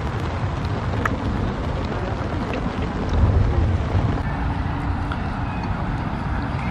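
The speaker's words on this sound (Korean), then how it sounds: "먹구름과 지금 노을이 합쳐졌는데 비가 엄청 와요" Heavy rain falls steadily at dusk by the Han River under dark clouds, a dense, continuous wash of noise with wind buffeting the microphone and no speech.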